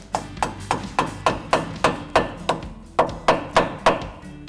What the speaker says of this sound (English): Just to help it along, give it a little tap.